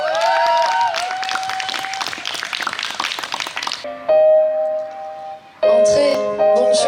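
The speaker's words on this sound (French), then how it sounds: "Merci de l'applaudir." An audience at a stage event in Monceau-sur-Sambre claps steadily over bright music for a few seconds, then the applause drops away and the music carries on alone.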